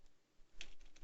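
A few quick computer keyboard keystrokes typing code, close and soft, with one sharper click standing out against a quiet background.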